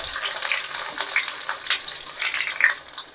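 Onion sizzles in hot oil with cinnamon, cloves and cardamom, a close, even frying hiss with small crackles and pops.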